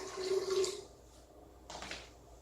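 Water splashes and gurgles briefly as one cup is poured into a blender, then fades, with a softer trickle and splash after a short pause.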